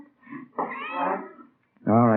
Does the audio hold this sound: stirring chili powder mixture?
no